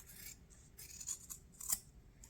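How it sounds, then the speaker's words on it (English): Good fabric scissors trimming the paper edge of a notepad: a few quiet, close snips and crisp cutting strokes in short irregular bursts, with light rubbing between them. "I'm just going to come in now and trim off the edge here."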